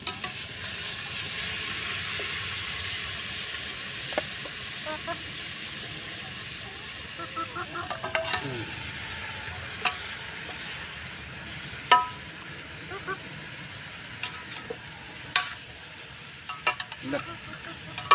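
Duck meat for adobo sizzles steadily in a hot pan, a continuous close hiss broken by scattered sharp pops and clicks, with no one talking.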